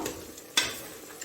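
Onions for Bannu beef pulao frying in a pan, a quiet, steady sizzle with one brief scraping stir partway through, close by.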